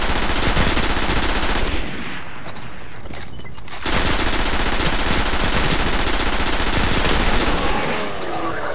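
Rapid automatic gunfire in the video game Destiny as shotguns and auto rifles cut down legionaries, loud dense bursts filling most of the stretch with a brief lull in the middle, no talk over it.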